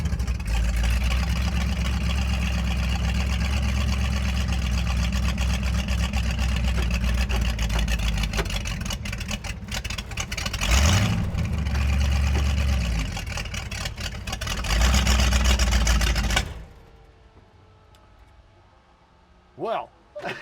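A big 454 V8 in a rat rod runs with a loud, deep, rumbling idle that holds steady, swells briefly, then cuts off into quiet with a few faint knocks afterward.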